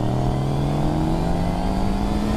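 A cruiser motorcycle engine revving loudly up close, a continuous throaty drone rising steadily in pitch across the whole stretch, with no talk over it.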